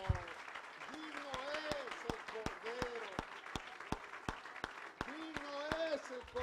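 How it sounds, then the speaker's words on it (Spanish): A Spanish-speaking church congregation claps for the Lord in an even, rhythmic beat of sharp hand claps, with sung voices running over the clapping the whole time. "Démosle un aplauso fuerte al Señor."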